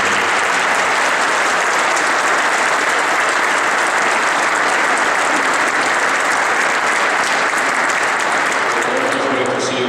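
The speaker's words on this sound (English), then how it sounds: "Would you please give him a round of applause?" Sustained audience applause fills the room at a veterans' event, steady and dense for the whole stretch, with a voice starting to talk faintly near the end.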